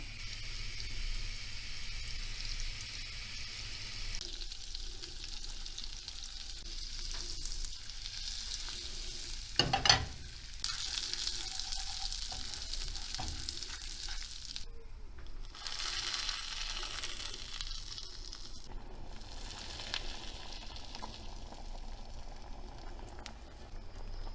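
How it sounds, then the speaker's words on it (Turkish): Butter sizzles softly in a heated frying pan, a faint, steady crackle with occasional stirring scrapes and a brief clatter partway through. "Şöyle yarım yemek kaşığı kadar tereyağı ilave ettim ısınmış tavama."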